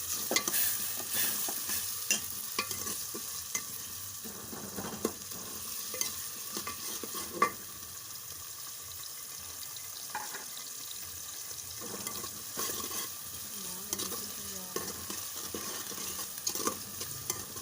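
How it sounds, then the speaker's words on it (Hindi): Onions fry and slowly brown in a pan for an aloo-egg curry, with a quiet, steady sizzle broken by intermittent stirring clatters and scrapes. "ये देखिए हमारा जो ये प्याज है ये तकरीबन 2-3 मिनट तक ये ब्राउन होना शुरू हो जाएगा।"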